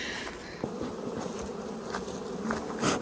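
Honey bees buzz steadily in a dense, continuous drone at a crowded, fast-growing hive during a heavy honey flow, close and fairly loud throughout, with no voices.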